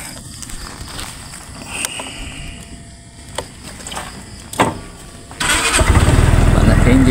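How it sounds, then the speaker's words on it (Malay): A Modenas ME250 EX Plus motorcycle starts near the end after quieter outdoor sounds and footsteps. The engine catches with a loud burst and then settles into a steady, close warm-up idle. "Panaskan enjin dulu."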